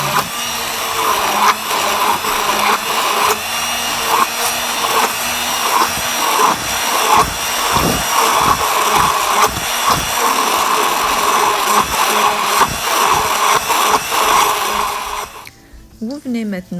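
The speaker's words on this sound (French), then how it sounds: "Et vous venez mixer avec un mixeur." An electric hand blender runs continuously in a kitchen, a steady loud whir held for about fifteen seconds, mixing ground almond, semolina and sugar for kalb el louz with pistachio filling, then cutting off near the end.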